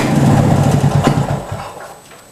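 A workshop engine catches after a few kicks, firing with a loud low rumble that runs unevenly for about a second and a half, then fades and dies away.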